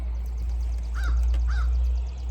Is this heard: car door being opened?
no